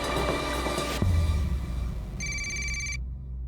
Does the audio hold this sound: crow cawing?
no